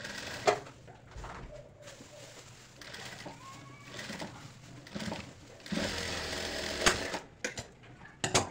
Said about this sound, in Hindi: तो इस तरह से यहाँ पे हम सिलाई लगा लेंगे